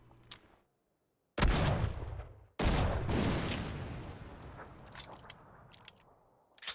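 Two heavy gas can explosions in PUBG, each a sudden loud broadband blast with a long rumbling, crackling decay, the second bursting soon after the first fades; faint game clicks follow.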